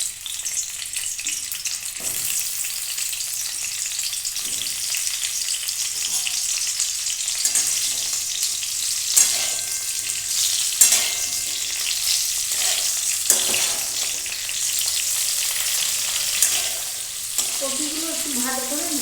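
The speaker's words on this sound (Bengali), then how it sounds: "কপিগুলো একটু ভালো করে ভেজে নেব।" Cauliflower florets frying in ghee for cauliflower pulao, a continuous bright sizzle with periodic spatula stirs and scrapes, close by, with no talking over it.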